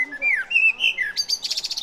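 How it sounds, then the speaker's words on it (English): Birds chirp and trill nearby in Rome in quick, bright phrases, ending in a rapid run of repeated high notes. "As you're walking, you can enjoy and listen to the birds sing."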